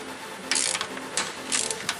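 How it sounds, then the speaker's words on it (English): An Allen wrench on an extension loosens oil pan bolts on a Dodge 3.5 engine, two short bursts of close ratcheting clicks in quick succession. "with the extension and with the Allen wrench 5, you can go ahead and remove them like that"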